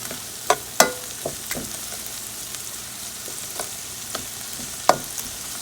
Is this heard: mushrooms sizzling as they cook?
yes